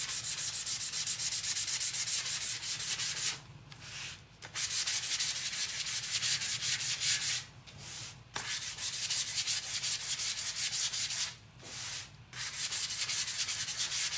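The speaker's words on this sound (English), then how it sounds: "I'm going to start with this 320 and I'm going to sand around the edges." Hand sanding of painted wood edges with 320 grit sandpaper, a loud close rhythmic scratchy rubbing with three short pauses between strokes, no voices.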